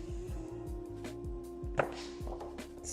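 Knife mincing garlic on a board, quick repeated chopping thuds in an irregular run, close and moderately quiet over a faint steady hum.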